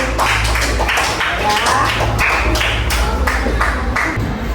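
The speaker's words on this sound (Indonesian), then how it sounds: "Beri tepuk tangan untuk kelompok persegi" A fourth-grade classroom of pupils claps, a dense, steady patter of hand claps lasting several seconds at close range.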